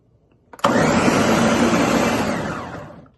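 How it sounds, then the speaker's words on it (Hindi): A kitchen blender coarsely chops tomato, onion, ginger, garlic, green chili and mint, starting abruptly with a sharp click into a loud, steady whirring roar that slowly fades near the end. "ये सारा जो है ब्लेंडर में डाल के इसको जो है मोटा मोटा ब्लेंड कर देंगे।"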